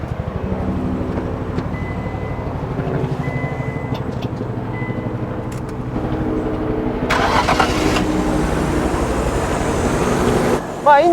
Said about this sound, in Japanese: エンジンもそのままかけてみましょうかね